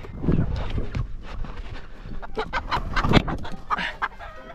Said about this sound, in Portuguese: Vem, galinha. Vem, galinha.